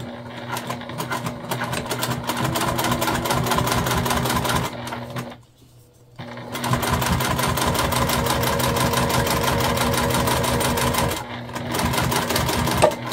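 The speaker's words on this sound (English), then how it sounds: "Okay, so we stitched and now we're top stitching." A home sewing machine fitted with a tank foot runs in long steady bursts while top stitching a Dollar Tree faux leather zipper pouch, its rapid needle chatter close and loud, with one brief pause midway.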